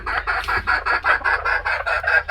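A hen cackles loudly and repeatedly while laying an egg in a farm coop, a steady run of about ten rhythmic clucks close to the microphone, with no voices over it.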